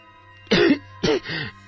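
Three harsh coughs in quick succession, close and fairly loud, the first two sharp and the last one softer, over a low steady hum.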